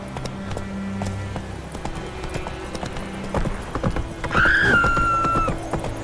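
Roach the horse gallops in The Witcher 3, hooves pounding in a quick rhythm up close, followed by a short rising whinny-like tone near the end.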